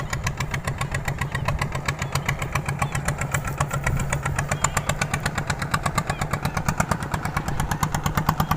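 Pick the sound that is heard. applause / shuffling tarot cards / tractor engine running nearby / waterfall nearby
tractor engine running nearby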